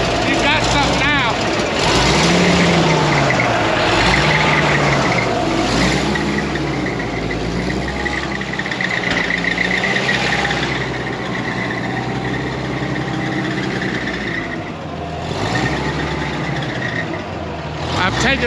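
A dragline's diesel engine runs steadily with the throttle pulled, giving a loud, continuous rumble with slight rises in pitch, while workers talk over it.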